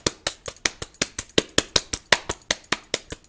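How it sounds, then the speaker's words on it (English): Hands clapping in a steady, fast rhythm, about sixteen crisp, close claps in a row with no talking. "Are we clapping? I've never clapped like this before."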